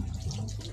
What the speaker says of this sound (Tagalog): Hoy nag-agasa laging tubig.